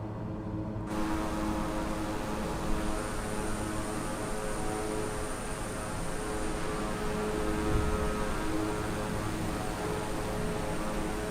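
A King Air propeller aircraft climbs in a flight simulator game, its engines droning in a steady, even hum with a constant high whine, unbroken throughout.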